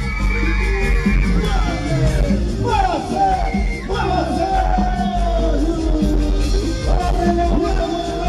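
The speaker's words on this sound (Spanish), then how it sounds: "¿Y dónde está el grito de las chicas?" Girls in the audience at a live music show scream and cheer, a sustained crowd roar of high yells and whoops mixed with loud band music throughout.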